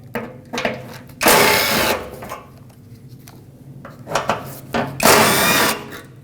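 A socket tool spins out small 10mm bolts on the underside shield of a Nissan Frontier front bumper, in two short, loud whirring bursts separated by quieter clicks and handling noise.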